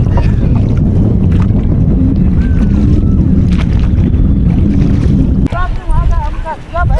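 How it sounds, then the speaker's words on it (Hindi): A boat travels along the Ganges at Varanasi, with heavy wind buffeting the microphone and low water and engine rumble throughout, then a brief change near the end as a voice briefly sounds over the rushing wind. "तो अभी मैं निकल पड़ी हूँ गंगा जी की सवारी पे बोट से।"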